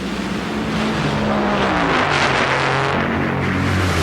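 Top Fuel dragsters launching side by side at the 1996 NHRA Mopar Parts Nationals in New Jersey, a loud, continuous roar of engines that stays dense and powerful throughout.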